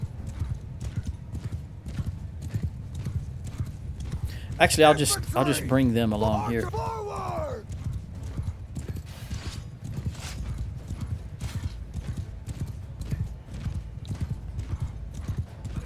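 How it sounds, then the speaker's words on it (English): Horses in the Mount & Blade II Bannerlord video game, heard as steady rapid hoofbeats with a brief whinny partway through, continuing for the whole stretch while someone speaks briefly over them. "Horse, do your thing."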